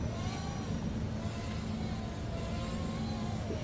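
Small X9 quadcopter flown on Deviation firmware with a 350mAh battery, its motors giving a steady, close high-pitched buzz that holds without a break.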